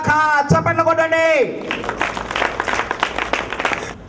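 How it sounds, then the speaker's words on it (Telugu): Congregation at a Telugu church service clapping hands, a burst of dense rhythmic clapping that follows a sung or chanted voice and continues to the end. "చప్పట్లు కొట్టండి."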